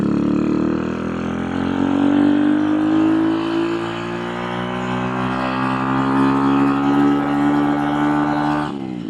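An RPS Racer go-kart with a Nibbi PE26 carburetor engine revs smoothly, its buzzing pitch climbing steadily for several seconds before cutting off abruptly near the end, loud and close.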